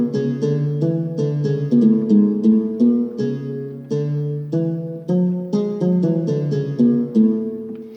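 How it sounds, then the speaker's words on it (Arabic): An oud voice on an LP6110E oriental keyboard plays a quick melodic line of plucked notes with sharp attacks and short decays, loud and close, with no talking. "هذا صوت العود. طبعا ممكن تشرق الصوت طبعا شرقي."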